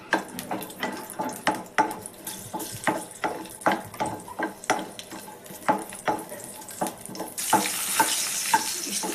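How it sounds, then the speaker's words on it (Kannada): Four green chillies fry in a pan for Andhra-style gongura chutney, a soft sizzle running beneath regular, rhythmic scrapes and knocks of a spatula stirring, the frying growing louder toward the end; nobody speaks. "4 ಹಸಿಮೆಣಸಿನ್ಕಾಯಿ ತಗೊಂಡಿದ್ದೀನಿ, ಅದನ್ನು ಸೇರಿಸ್ಕೊತಿದ್ದೀನಿ. ಈಗ ಅದನ್ನು ಸ್ವಲ್ಪ ಫ್ರೈ ಮಾಡ್ಕೊತೀನಿ."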